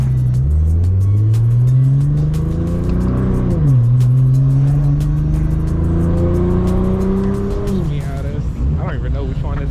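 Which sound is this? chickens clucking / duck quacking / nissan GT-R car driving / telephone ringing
nissan GT-R car driving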